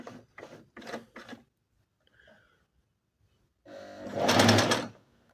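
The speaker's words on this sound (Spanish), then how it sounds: "Vamos a poner hacia un costado para ver cómo cose de esa forma." A Singer Inspiration sewing machine makes a single short, loud burst of stitching with the needle set off to one side, following a few brief soft knocks and a quiet gap.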